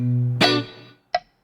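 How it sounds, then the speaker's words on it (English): A minor chord brushed on guitar with the thumb rings out close and soft, then fades, followed by a single short plucked note after a brief pause. "I'm going to play that minor chord that we talked about before with the thumb"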